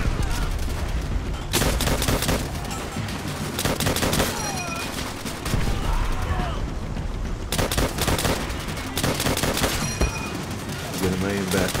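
Dense gunfire from the World War II shooter Call of Duty: World at War, rapid overlapping bursts and booms filling the whole stretch, loud and continuous with brief lulls, a voice faintly beneath.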